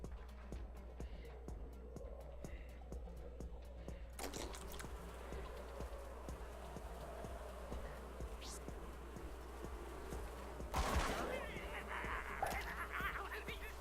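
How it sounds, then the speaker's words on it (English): Bees buzzing as they attack zombies in a casual video game, a faint steady insect drone with game effects and a burst of clatter, no talk over it. "Bees still attack shrunken zombies."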